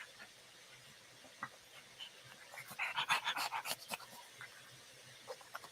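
A female puppy pants in a quick, steady rhythm of rapid breaths, close and fairly soft, building to a louder burst in the middle before trailing off.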